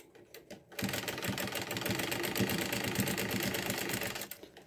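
A sewing machine stitches around the edge of a washable fabric wipe, starting abruptly after a few soft clicks and then running in a fast, steady rattling whir for several seconds before stopping.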